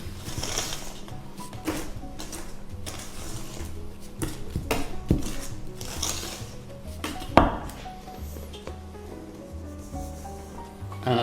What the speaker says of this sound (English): it's probably easier to use a spatula and kind of fold in that flour